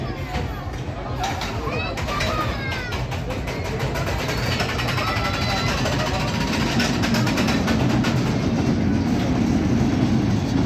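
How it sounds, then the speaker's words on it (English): Steady rumbling and clattering of a small toy train ride at an amusement park, running throughout, with a crowd's chatter and squeals mixed in, continuous and fairly loud. "They named this toy train ride as Jacko Coaster"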